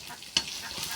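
Okra stir-fried in a pan gives a soft, steady sizzle, broken by one sharp scrape or clatter of the spatula partway through, close up and with no talk.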